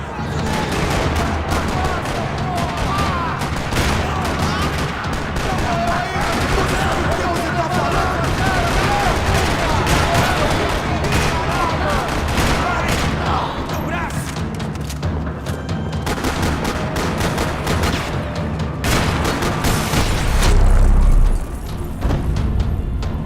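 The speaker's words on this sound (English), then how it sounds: "Another parking lot rattling with gunfire." Gunfire rattles through a parking lot in the Max Payne video game, with dense bursts of shots and heavy thumps running continuously, ending in a louder boom.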